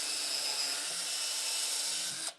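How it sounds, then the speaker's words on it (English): A power drill bores a 1/8-inch pilot hole into 2x4 lumber with a steady high-pitched whine. The whine holds for about two seconds before cutting off abruptly. "we're going to put in 4 pilot holes"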